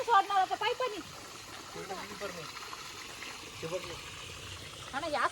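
Irrigation water runs steadily into garden plant beds on an evening, a soft continuous trickling flow that stays in the background while a person talks over it.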